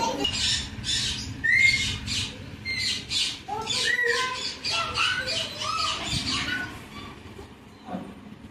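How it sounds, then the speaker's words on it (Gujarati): A parrot squawks and screeches repeatedly in sharp bursts, loud and near, over a low rumbling background. "આ છે પોપટ"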